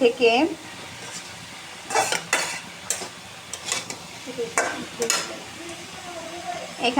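Carrot and potato fry in a pan, a low steady sizzle with spatula stirs and scrapes at irregular intervals, while a voice talks nearby at times.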